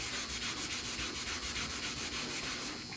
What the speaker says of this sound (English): just me taking my hand and doing like this with that metal prep, it's just taking that rust off of there